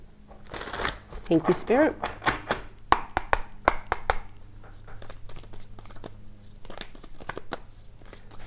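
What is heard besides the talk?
tarot cards being shuffled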